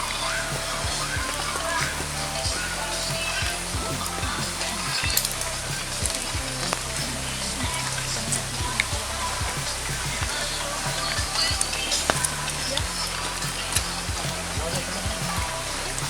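Manoa Falls near Honolulu, Hawaii, pours down on a rainy day, giving a steady, close rushing hiss of falling water with scattered small ticks and splashes.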